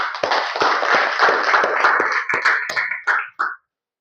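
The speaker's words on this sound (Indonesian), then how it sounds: "Tepuk tangan." Students in a polytechnic classroom clap together at the end of a lesson, a dense burst of close applause that thins into a few last claps and then stops.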